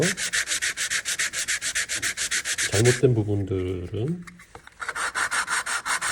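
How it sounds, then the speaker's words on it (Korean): Rapid rhythmic sandpaper rubbing on the wooden body of a miniature vanity table, steady back-and-forth strokes, pausing briefly while a voice speaks, then resuming close and loud. "몸통에 다리를 붙이기 전에 몸통을 먼저 샌딩을 할게요"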